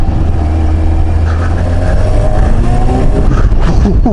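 A Yamaha XJ900S Diversion motorcycle accelerates under a rider, its engine rising loud and close through the gears, with wind rush building toward the end.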